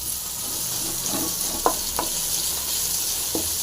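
Curry leaves and chopped coriander fry in hot oil in a pan, a steady sizzle with a few sharp scrapes of a spoon stirring, close and moderately loud with no talk.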